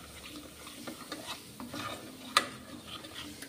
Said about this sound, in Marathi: पूर्ण आपल्याला हे सगळं मिश्रण एकजीव करून घ्यायचं आहे